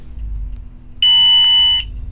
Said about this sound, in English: When you hear the beep, you're in program mode.